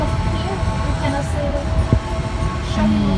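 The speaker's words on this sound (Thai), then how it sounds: "ได้ยินเสียงรถไฟแล้ว" A train rumbles nearby with steady low mechanical noise and a brief rising tone, against busy background chatter.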